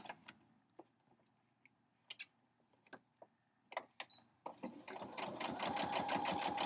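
Sewing machine stitching a thick crumb block of non-cotton fabrics and vinyl on fusible foundation, with scattered clicks and handling taps before the motor starts into a steady, close, rapid whirring run.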